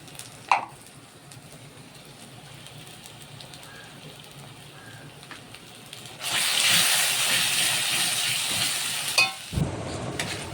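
A spice paste of cumin, chili and turmeric powder with salt being sautéed in oil in a pan, quiet stirring that swells into a loud steady sizzle partway through, close by.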